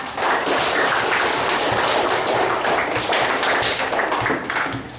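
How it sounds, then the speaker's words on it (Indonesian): A classroom of students applauds together, a dense, steady burst of many hands clapping close by that fades slightly at the end. "Boleh tepuk tangan."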